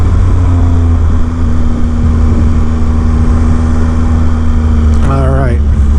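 A 2019 Triumph Speed Triple RS motorcycle engine drones loud and steady while riding, with a constant low engine hum under wind rush, and a short voice near the end.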